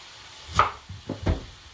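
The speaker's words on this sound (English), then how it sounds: "now I'm just going to cut my onion in half this way." A knife cuts an onion in half on a cutting board, giving a few close, sharp chopping knocks against the board with short pauses between strokes.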